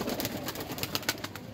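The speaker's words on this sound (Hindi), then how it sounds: "ये लाल परी उस कबूतर की ये मादा है" A female Lal Pari pigeon gives soft, close cooing notes in a short burst, with light background noise and no talking.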